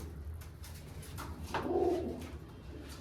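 A female pigeon in a loft gives one soft, low coo, close and clear over quiet background rustle.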